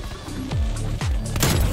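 Pistol fire in Call of Duty: Cold War, three sharp shots about half a second apart, each with a booming low tail, loud against steady game background noise.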